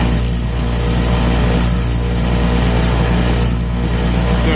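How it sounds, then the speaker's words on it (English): A handheld power tool deburrs a metal rod bearing from an engine in a steady, loud, close grinding rasp with periodic strokes, and no talking. "so I'm going to deburr it."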